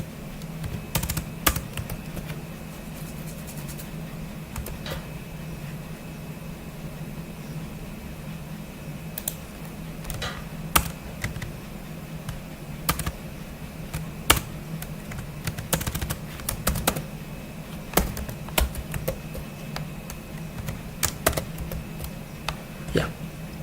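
Code being typed on a computer keyboard for a Solidity smart contract: irregular bursts of sharp key clicks, some spaced out and some in quick runs, over a steady low fan hum, with no talking.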